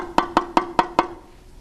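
Five evenly spaced drum strikes on a tightly tensioned talking drum, each a bright, higher-pitched tone that rings briefly, then silence.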